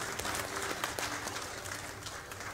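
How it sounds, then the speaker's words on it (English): A church congregation applauds the children, a moderate, somewhat distant patter of many hands that holds steady for a few seconds in a reverberant room, with no speech over it. "Let's give them a round of applause."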